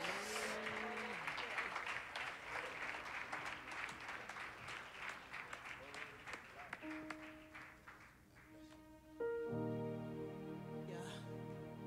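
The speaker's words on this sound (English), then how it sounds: "Come on, clap your hand this morning." A church congregation claps hands at a Sunday service, steady rhythmic clapping under voices for most of the stretch before it fades and music with sustained tones takes over.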